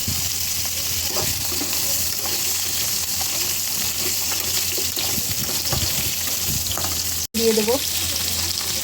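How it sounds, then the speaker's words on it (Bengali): Pumpkin pieces fry in oil with black cumin, giving a steady, close sizzle and crackle that runs throughout. A voice speaks briefly over it, and there is one sharp clunk near the end. "কুমড়োগুলো একটু হালকা করে ভেজে নেব।"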